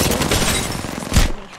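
Rifle fire in Apex Legends arrives as a rapid, continuous automatic burst with a dense rattling texture, broken by a heavier boom near the end, all close and loud.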